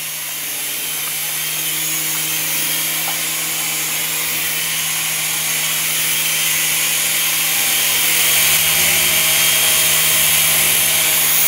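A Protocol Tigerjet toy helicopter hums with a steady, loud motor-and-rotor whine that builds slightly over the clip, alone and continuous.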